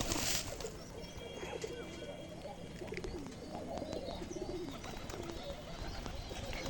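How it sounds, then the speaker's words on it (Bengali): A flock of pigeons finishes feeding and slowly wanders off, with low cooing and scattered chirps over continuous soft rustling and scratching, and a sharp noise at the very start. "দেখতে পাচ্ছেন যে কবুতরগুলো খাওয়া দাওয়া করে আস্তে আস্তে চলে যাচ্ছে"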